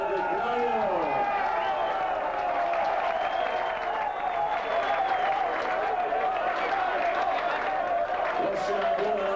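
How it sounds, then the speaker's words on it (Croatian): Applause for a team from Užice at an award ceremony, steady crowd clapping filling the space while voices and a sustained tone carry over it. "aplauz za ekipu iz Užice"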